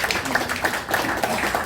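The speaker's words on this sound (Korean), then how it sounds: "이까지 올라오신 노고에 박수 한번 쳐주시기 바랍니다." Audience applause at a lecture gathering, a dense burst of many hands clapping, fairly close and continuous for under two seconds.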